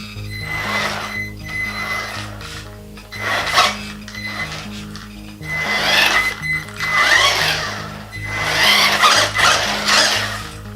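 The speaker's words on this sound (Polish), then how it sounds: "Teraz mamy nowy silniczek, e, nowy, dużo, dużo lepiej chodzi." A small electric motor freshly fitted to an A979 RC car whirs in repeated bursts, revving up and easing off with skiddy, whining surges over roughly eleven seconds, close and fairly loud.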